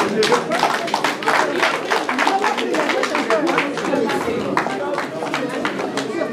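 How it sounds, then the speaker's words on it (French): A crowd claps at a political party investiture event in Nanterre, dense rapid hand claps continuing at an even level with some voices mixed in. "sous vos acclamations, s'il vous plaît"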